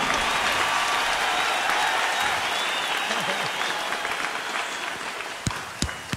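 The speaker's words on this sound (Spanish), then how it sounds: "fuerte el aplauso, por favor" Sustained, dense applause from a concert audience fills the space at a steady loudness, thinning a little toward the end as a few sharp individual claps stand out.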